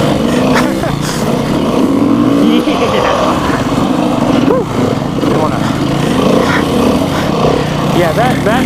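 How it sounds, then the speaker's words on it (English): A 2019 Beta 390 RR-S dirt bike on its stock exhaust revs up close, loud and continuous, with the engine pitch climbing and falling through repeated throttle blips and voices partly buried beneath. "Go ahead, flip that throttle one more time for me."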